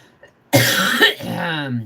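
A single loud, harsh cough burst up close, trailing into a rough throaty rasp.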